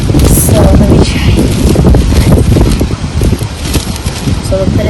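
Strong outdoor wind buffets the microphone in loud, continuous gusty roars and rumbles while flapping and rustling sounds come through, with someone talking underneath.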